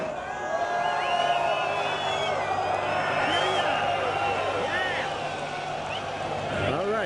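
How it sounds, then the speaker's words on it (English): A crowd of Turkish metal fans mills outside a concert in Istanbul, a steady murmur of voices with scattered shouts and whoops, heard close and continuously under nearby chatter. "Let's go look at the front of the crowd real quick before we go in."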